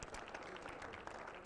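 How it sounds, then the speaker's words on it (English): Steady applause from a crowd, dense and continuous clapping at even loudness throughout with no voices standing out. "Please, a round of applause for this young man, Yao Sechi Afari."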